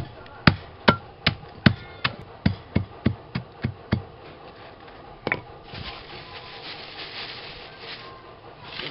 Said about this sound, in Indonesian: Ini kita tumbuk, kita haluskan.